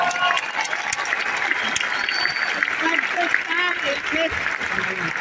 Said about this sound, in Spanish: creo que se merece un aplauso grande